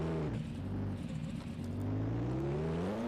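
A USAC race car on a Wildcat chassis with an SGD engine runs loud and close, its engine note holding steady and then rising as it pulls away, with no talk over it.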